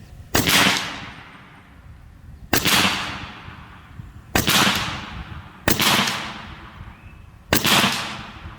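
Skout semi-automatic airgun fires five sharp, loud shots at an even pace roughly two seconds apart, each a crisp crack trailing off into a short ringing decay, with no talking.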